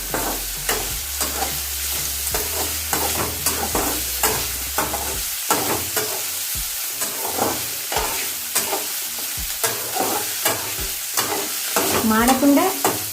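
Onions for capsicum masala curry fry in hot oil, a loud continuous sizzle under quick repeated scraping strokes of a spoon stirring around the pan, close up with no voices.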